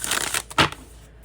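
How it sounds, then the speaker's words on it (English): Tarot cards being shuffled at close range, a brief soft riffle of flapping card edges ending in one sharper snap, alone. "Give it another shuffle."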